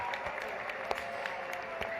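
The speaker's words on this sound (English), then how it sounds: "And the clapping was underwhelming." Sparse, somewhat thin clapping from an audience, heard secondhand through a played clip at a U.S. political address, scattered claps over a steady muffled background with no speech.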